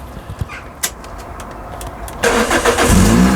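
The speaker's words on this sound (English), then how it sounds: "we'll just go turn the engine on" A Toyota Celica engine cranks and catches about two-thirds through, then settles into a steady running idle after a few quiet faint knocks.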